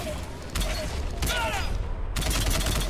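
A Carnage power shot fires in the video game Mass Effect, a loud burst of weapon fire among other combat noise with mechanical clatter, cutting in and out across a few seconds.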